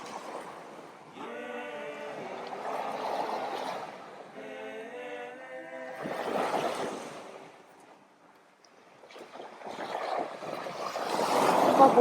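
Sea waves at Crocus Bay, Anguilla, wash in and swell in loud surges toward the end, with sustained tonal, voice-like passages sounding earlier over the water.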